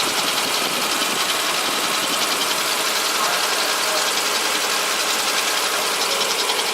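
High-mileage car engine with over 850,000 kilometres idling, heard up close as a steady, even mechanical hiss and whirr with a fine rapid ticking, constant and fairly loud, with no talking.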